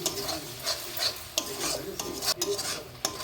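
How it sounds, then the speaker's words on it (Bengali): A spoon scrapes and stirs spice masala with Kashmiri chili powder as it sautés in a pan for a soybean curry, giving repeated close scraping strokes over a light sizzle. "এইভাবে মশলাটা অনেকক্ষণ ধরে কষিয়ে নিতে হবে, মশলাটা যাতে একটু ভাজা ভাজা হয়ে যায়"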